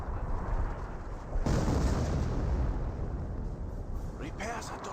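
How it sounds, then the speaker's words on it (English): Artillery fire in the World War II strategy game Company of Heroes: dense, sustained rumbling explosions with a heavier burst partway through, continuous and loud throughout. "More artillery raining on in."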